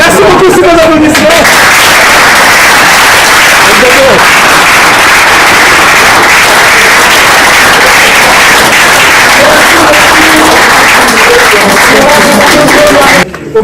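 Audience applause at a public question session in a hall, a loud dense wash of clapping and crowd noise lasting throughout, with voices mixed in near the start and end.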